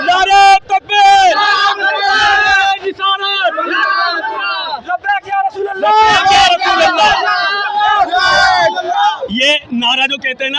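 A large crowd at the Red Fort on Eid loudly chants Allahu Akbar slogans, with voices calling and responding in rhythmic waves, close and dense, alongside shouting.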